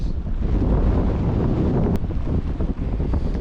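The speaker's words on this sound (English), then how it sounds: "it is extremely windy here" Strong wind on a Scottish mountain summit buffets the microphone in a continuous, roaring rush with gusty swells, loud and close, with no voices.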